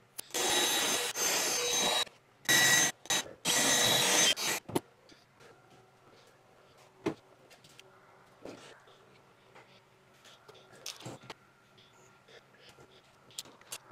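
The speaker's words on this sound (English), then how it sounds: "This is actually an internal PVC cutter." Loud bursts of an internal PVC cutter grinding through PVC, starting and stopping several times, followed by quieter handling clatter and faint knocks.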